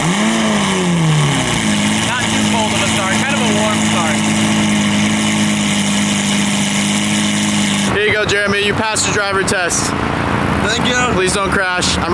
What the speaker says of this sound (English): ever riding in a Lamborghini Murcielago